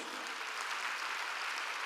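A church congregation at a Sunday worship service clapping together, a dense, steady wash of applause that fills the room without pause.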